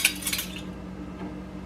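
A metal teaspoon clinks briefly against a container while spices are measured for huli-huli chicken, a quick cluster of light bright taps up close, then quiet kitchen room tone.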